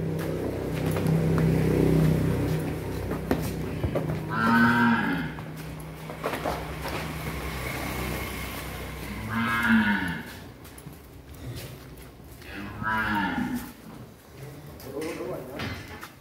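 Cattle being delivered on a farm in Vietnam moo loudly several times, some bellows drawn out, while people talk and vehicle noise rumbles underneath.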